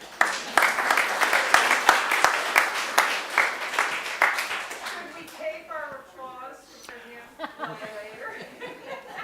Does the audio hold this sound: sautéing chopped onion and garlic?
no